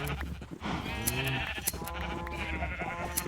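Blocky sheep in a Minecraft Galacticraft modpack bleat several times in quick succession, wavering cries overlapping one another, close and clear with no talk.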